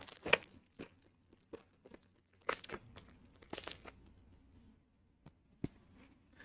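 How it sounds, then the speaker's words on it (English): Pokémon Journey Together booster packs are torn open with sharp, sporadic crinkling and ripping of foil wrappers, close and fairly quiet, with soft handling noises between the bursts. "Next, I'm gonna bust through these Journey Togethers"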